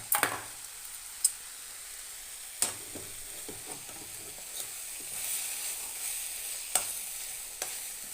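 Dal sambar powder sizzles softly in an oil tempering for bitter gourd gojju, a quiet, even frying hiss with a few sharp spoon taps and scrapes against the pan, no voices.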